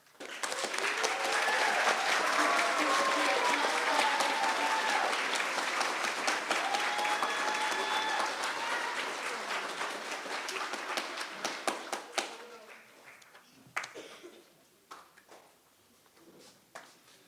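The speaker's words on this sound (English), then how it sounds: "please join me once again in applauding all of our new Honor Society members" Audience applauding new Honor Society members, sustained dense clapping from a sizeable crowd in a hall that thins out after about twelve seconds into scattered claps and small noises.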